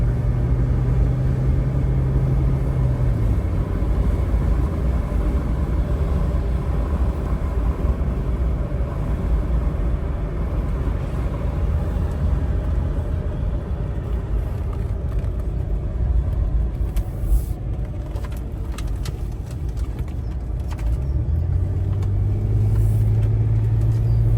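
A 2000 Mercedes-Benz ML320 SUV with a clunking motor mount drives and accelerates, its engine and road rumble steady and loud throughout, with a low engine tone rising near the start and end.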